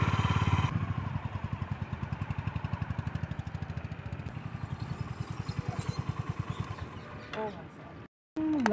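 A Honda H'ness motorcycle engine runs close by with a light rattling from the rear, giving a fast rhythmic pulsing chug that falters near the end.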